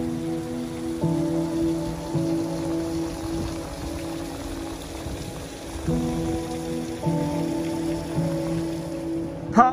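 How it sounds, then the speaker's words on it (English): Rain pattering steadily at a limestone fossil quarry, a continuous soft hiss of drops on surfaces, with a low tonal hum rising and falling underneath and no talk. "The weather's closing in now and it's really started to rain."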